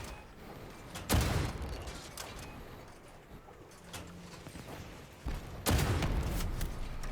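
Weapon fire from CHARON guns in the vehicle combat game Crossout: two sharp booming bursts a few seconds apart over a low ambient rumble, moderately loud with nothing spoken.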